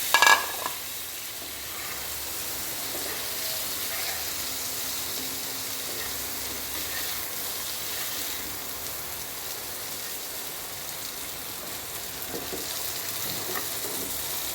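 Hilsa fish slides into hot oil with fried onions: a short loud burst at the start, then a continuous, moderately quiet sizzle that holds steady without speech.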